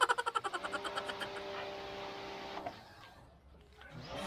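Kawasaki HPW 220 electric pressure washer starting up, with a fast rattling pulse at first that settles into a steady motor whine, then cuts back to a quieter hum at the end.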